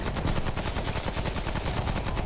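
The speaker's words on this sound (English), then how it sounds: "Is that explosive shot that you're using?" Rapid gunfire from the explosive shot weapon in the video game Remnant: From The Ashes, a dense run of close, loud, booming shots fired in quick repeated succession with no pause.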